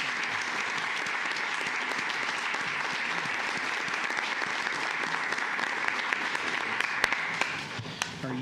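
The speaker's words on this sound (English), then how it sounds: "And I think a round of applause for him." Dense applause from people attending a county commissioners court meeting fills the room for more than eight seconds at an even, steady level, with a few sharper claps near the end.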